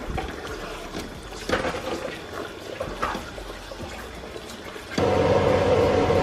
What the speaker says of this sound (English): We drained the potatoes and we're going to dump them in here. Give it a good stir.